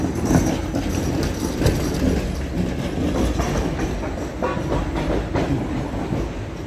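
A replica historic-style tram in Nizhny Novgorod rolls past on its street route, with a steady rumble and rhythmic rail clatter of wheels over joints, moderately close and continuous.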